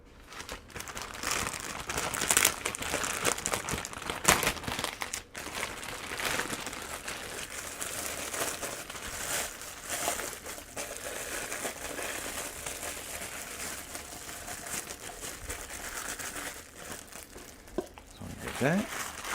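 Plastic cups and dome lids are handled while bubble tea drinks are set up, producing continuous close crinkling and rustling with scattered sharper clicks and clatters.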